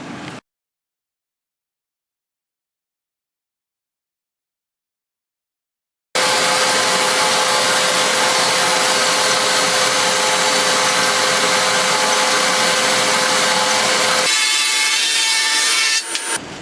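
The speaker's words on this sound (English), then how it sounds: "set up the rip fence on the bandsaw and cut them about 11/16 thick slices" A vertical bandsaw ripping scrap wood into thin slices against a rip fence: a loud, steady, rasping cut that holds for about eight seconds after a stretch of silence, then drops to a thinner whir as the blade runs free.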